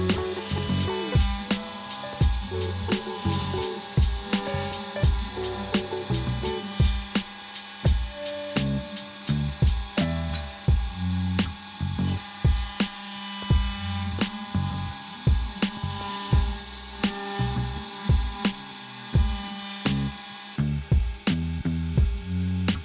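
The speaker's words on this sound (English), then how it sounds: "It's pretty cool to watch as the machine handles the multi-axis work, carving out all the fine details" A Carvera Air desktop CNC machine engraving fine detail with a V-bit, giving a steady motor hum broken by rapid, repeated cutting ticks and short bursts as the tool moves, close and continuous with no talking.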